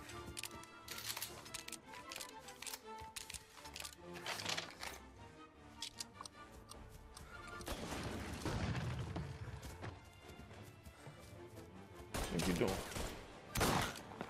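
Gunfire in Mafia: Definitive Edition, a run of sharp shots and bursts scattered across a busy game mix, with heavier blasts toward the end, heard under occasional game voices.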